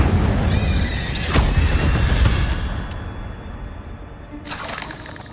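Incendio fire spell cast in Hogwarts Legacy: a loud sharp burst with a tonal magical shimmer, then a sustained roaring whoosh of flame fading over several seconds, with a second flare near the end.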